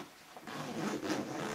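Zipper drawn open along the main compartment of a Defcon 5 daysack backpack, a close, fairly quiet rasping zip that rises in strength and continues for over a second.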